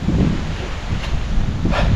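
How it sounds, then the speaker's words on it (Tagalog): Strong wind buffets the microphone in a constant low roar, with a faint rustling and occasional gusts rising over it. "Ang lakas ng hangin dito."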